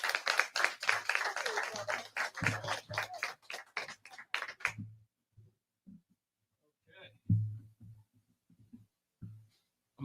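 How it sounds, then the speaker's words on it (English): A small audience at a Pan-African community gathering applauds in a brief burst of sharp claps that thins out after a few seconds, followed by scattered taps and low sounds, with a voice faintly present. "Give a big round of applause"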